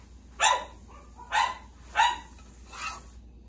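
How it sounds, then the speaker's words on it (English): Household dogs barking indoors, four distinct loud barks spaced roughly half a second to a second apart, clear and fairly close, over a faint steady hum. "I start filming and they bark."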